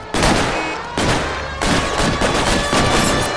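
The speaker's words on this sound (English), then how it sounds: "It's gunfight time." Heavy gunfire from an L.A. Noire gunfight, loud dense bursts of shots in several sustained volleys with brief gaps between them.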